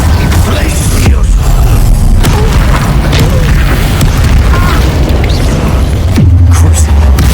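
Glacius ice spell cast in Hogwarts Legacy, heard as deep booming impacts and bursts layered over a dense, loud game soundscape, with a sharp hit near the end.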